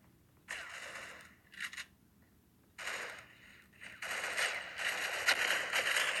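Rapid gunfire in the Critical Ops mobile shooter game: several bursts of automatic shots, short volleys early on and then a longer sustained stream, fairly loud with no talk over it.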